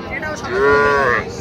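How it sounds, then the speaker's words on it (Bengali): A local-breed bull calf at a cattle market gives a single clear, drawn-out moo lasting about a second, close and loud over a low background murmur. "দেশি মাল, ষাঁড় বাচ্চা দেশি"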